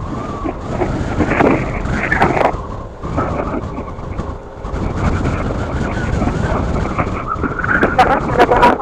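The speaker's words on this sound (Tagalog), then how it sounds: "Lakas talaga ng hangin." Strong, cold wind whistles and buffets steadily around the highland botanical garden at Km90 in Infanta, Quezon, with loud rumbling gusts and voices talking now and then.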